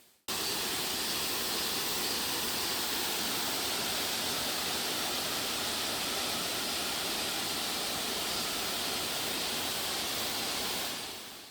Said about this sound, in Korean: 구곡폭포입니다. 약 50m 높이에서 9번 꺾여서 내려온다는 폭포인데요